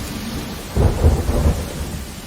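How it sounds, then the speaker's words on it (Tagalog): A low rumble of thunder rolls through over steady rain, deep and heavy, with no voices present. "unti-unting dumidilim ang langit, hanggang sa bumuhos ang malakas na ulan"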